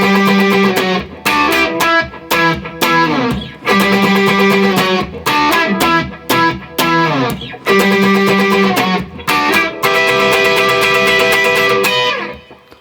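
The electric guitar line from a song rings out loud and distorted up close, with choppy rhythmic phrases and brief gaps, and no voices over it.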